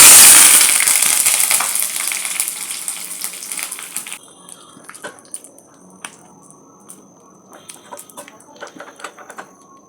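Curry leaves drop into hot tempering oil and burst into a loud, bright sizzle that slowly fades, then gives way to quieter scattered crackles and pops.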